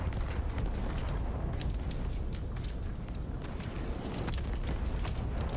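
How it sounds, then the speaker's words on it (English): Constant explosions and gunfire fill a Borderlands 3 fight in the Cistern of Slaughter. The dense rumbling blasts crackle and boom together without a break, with no speech over them. "Just all the explosions."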